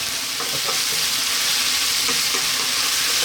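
Chopped garlic and ginger frying in hot oil in a pan for a lively curry base, a loud, steady sizzle with a few soft clicks of stirring, no voices.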